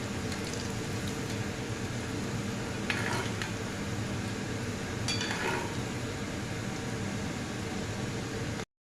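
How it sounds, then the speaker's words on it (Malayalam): Dough balls frying in hot oil give a steady close sizzle, with brief scrapes and clinks of a utensil stirring in the pan. "ഇത് നമുക്ക് ഫ്രൈ ചെയ്തിട്ട് വരാം. എണ്ണ ചൂടായിട്ടുണ്ട്. നമുക്കിത് വറുത്ത് കോരി എടുക്കാം."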